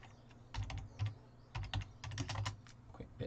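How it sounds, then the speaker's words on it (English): Quiet, close keystrokes on a computer keyboard come in short irregular bursts of rapid clicks, with brief pauses between runs. "Quick bit of typing there."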